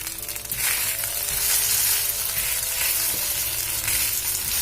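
A mixed pulses pancake fries in oil in a pan, giving a loud, continuous close-up sizzle with a brief quieter moment at the start and no voices.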